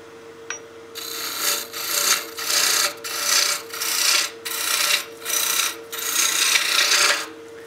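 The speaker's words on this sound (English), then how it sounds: "I have a lot of material here I'm gonna reduce with my spindle roughing gouge" A spindle roughing gouge cuts down a wood blank spinning on a lathe while a baby rattle is being turned, giving a loud, steady rasping shear in repeated surges as the tool passes back and forth along the piece, with no talk.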